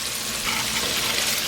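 Bacon frying in a pot as it is stirred, a steady close hiss and crackle of sizzling fat with soft stirring movement underneath and no talking.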